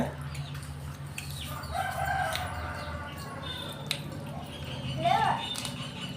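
Chickens on a farm cluck and call at moderate distance amid steady outdoor background noise, with a louder squawk near the end.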